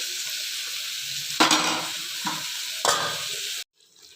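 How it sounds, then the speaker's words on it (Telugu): A spoon stirs stuffed eggplant masala curry (gutti vankaya) in a pan over a steady sizzle, with three distinct scraping strokes close by before the sound cuts off abruptly. "4-5 నిమిషాలకు ఒకసారి ఇలా కలుపుతూ ఉండాలి, అడుగంటకుండా ఉండడం కోసం"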